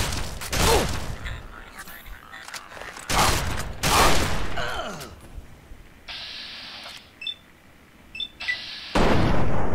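Bursts of gunfire and explosive blasts in Fallout 3's Mothership Zeta add-on, loud volleys in several separate clusters with quieter gaps between, plus short high electronic tones near the end.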